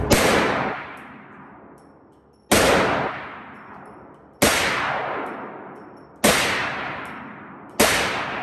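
Five loud, close gunshots at an outdoor shooting range, each a sharp crack followed by a long decaying echo, spaced about two seconds apart.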